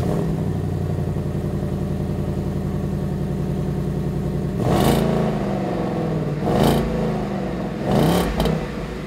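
A 2015-2017 Mustang GT on its stock exhaust idles with a steady, rumbling V8 burble, then gives three sharp revs that rise and fall back to idle, loud and close.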